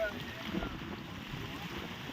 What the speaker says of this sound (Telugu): ఈ గాలికి చిన్న పడవలో ప్రయాణం చేయాలి ఇప్పుడు